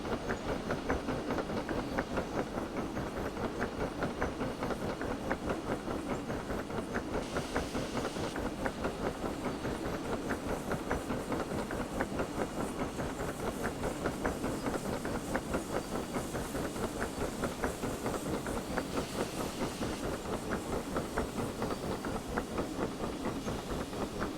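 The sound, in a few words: steam train running, from a video game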